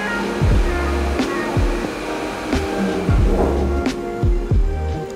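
A BMW engine with a ZF 8-speed automatic is held at 2000 RPM in park, giving a loud, steady close drone broken by regular low pulsing surges.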